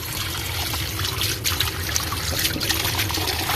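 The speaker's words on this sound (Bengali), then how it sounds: "এদিকে আমি পাকিস্তানি মুরগিগুলা এক একটা করে ধুয়ে নিতেছি" Pakistani chickens being rinsed one by one in water at home, a close, steady trickle and splash of running and sloshing water with small irregular surges, no voices.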